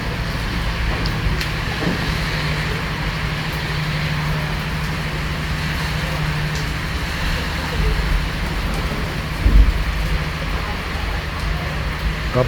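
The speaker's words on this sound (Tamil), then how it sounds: "மழை பெய்து கொண்டு இருக்குது. நல்ல மழையாக இருக்குது" Heavy rain pours steadily by a river boat landing in Zurich, Switzerland, a dense, loud hiss with a low rumble beneath and a brief thump late on, while voices murmur faintly underneath.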